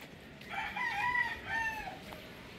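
Rooster crowing mid-distance, a drawn-out call rising and falling over about two seconds, with faint hen clucks around it, in a farmyard after a typhoon.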